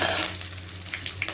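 Green chillies and dried red chillies fry in hot oil for lemon rice, giving a close, steady sizzle and crackle with faint stirring, and no talk.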